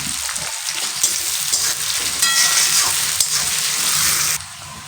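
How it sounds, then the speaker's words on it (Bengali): Onions frying in oil for an egg omelette curry, a dense continuous sizzle with faint stirring scrapes, steady and close before it drops off abruptly near the end. "এবার এটাকে আমি কিন্তু সুন্দর করে লাল লাল করে ভেজে নেব।"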